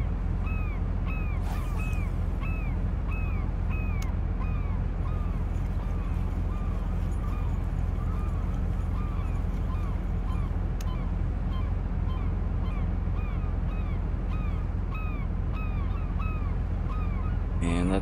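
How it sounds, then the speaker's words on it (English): Seabirds call repeatedly over a steady low boat engine drone in the fishing game Fishing Planet, set on the Southeast Tuna Highway; the cries come in quick regular bursts throughout, moderately loud against the hum. "We are in the midst of the birds"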